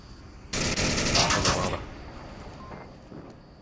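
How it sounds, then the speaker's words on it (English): Gunfire in the Onward VR video game during a competitive match: a rapid, sharp burst of automatic shots lasting about a second, followed by a quieter tail of shots and faint mechanical clatter. "More shots coming out on the west side."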